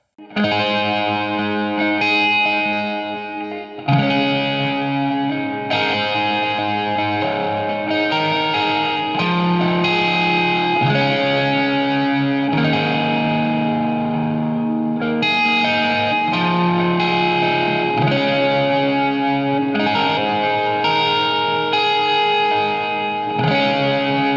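Electric guitar chords for a song played through a Line 6 Helix with chorus and ambient effects, ringing sustained strums changing every few seconds, full and close, alone without talk.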